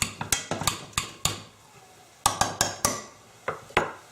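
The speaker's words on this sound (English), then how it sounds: "take a potato masher and mash it up" A potato masher works black beans and tofu in a pan for burritos, giving a dozen sharp metallic clanks and knocks in uneven bursts, close and fairly loud, with a pause in the middle.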